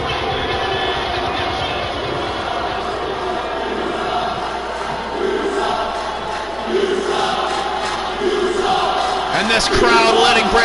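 A wrestling crowd at a live show in Seattle jeers champion Brandon Bones, a steady loud roar of many voices that swells toward the end, with a commentator talking over it.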